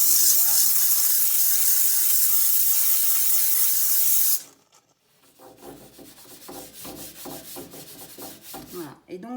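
A Vapodil steam cleaner steams the inside of an oven, giving a loud, steady hiss for about four seconds that cuts off abruptly, followed by quieter rubbing and scraping sounds.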